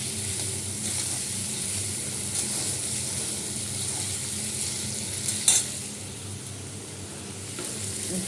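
Food sautéing in a pan with salt added: a continuous sizzle and frying hiss, fairly even throughout, with a short louder scrape or stir midway, heard alone.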